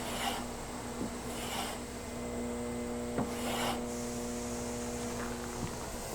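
A steel kitchen knife is sharpened in a series of raspy scraping strokes, a few short passes spaced over several seconds against a steady background electrical hum, fairly faint and without speech.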